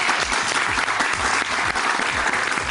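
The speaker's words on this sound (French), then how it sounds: "c'est parti, on les applaudit." Studio audience applause on a French TV talent show, dense and continuous clapping throughout, loud and close with no break.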